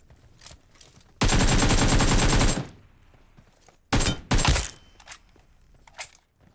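Automatic gunfire from PUBG Mobile comes in a long sustained burst at close range, then shorter rapid bursts after a pause, with faint scattered shots and thuds between them.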